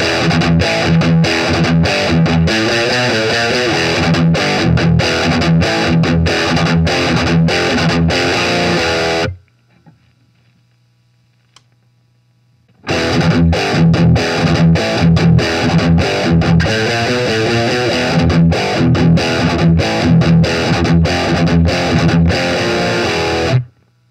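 An Ibanez RGT42 basswood-body electric guitar with a DiMarzio Steve's Special pickup, played through a Peavey Rage 158 amp in modern mode, roars with loud distorted chugging riffs, stops for a few seconds of silence, then resumes.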